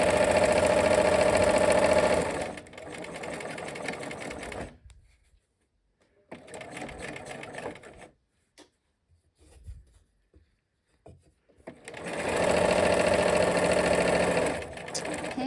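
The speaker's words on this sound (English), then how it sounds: "let's go ahead and take a couple stitches and backstitch" Sewing machine stitching and backstitching a quilt square, loud close motor runs at the start and end with a quieter short burst between and near-silent pauses.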